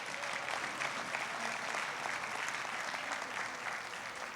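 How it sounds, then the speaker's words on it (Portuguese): Sustained applause from a church congregation during a sermon at Comunidade Cristã de Barretos, a steady dense roar of many hands clapping filling the room evenly, with no talk over it. "dê um aplauso"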